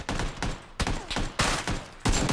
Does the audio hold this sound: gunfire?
yes